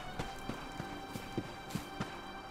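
Horse hooves clip-clopping in the video game Dragon Quest IX, a light, steady run of evenly spaced hoof taps at moderate volume over soft background music.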